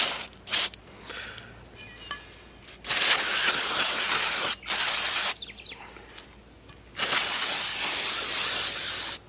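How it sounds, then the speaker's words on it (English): Brake cleaner is sprayed onto Mazda3 brake parts in several sustained hissing bursts, close and loud, separated by short pauses. "I'm just going to spray it quick with the brake cleaner just to make sure everything is clean."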